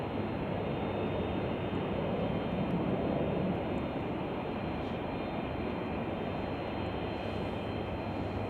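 An airplane arriving at Chicago O'Hare airport after a flight of about two hours and twenty minutes, heard as a steady, loud, broadband engine roar that holds constant without a break.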